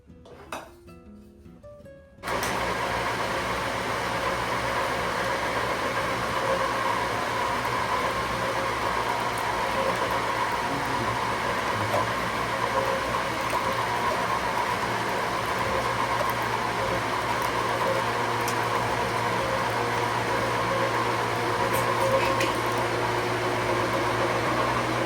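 A Fabio Leonardi MR10 tomato crusher processing tomatoes starts up after a brief clatter and runs with a loud, steady motor whir and grinding hum, unchanging and close, for the rest of the stretch.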